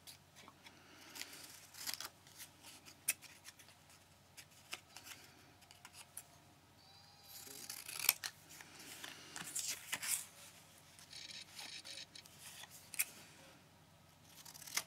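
Scissors snipping through paper for art trading card crafts, faint quiet cuts and rustling paper handling at close range, with soft clicks scattered across the quiet room.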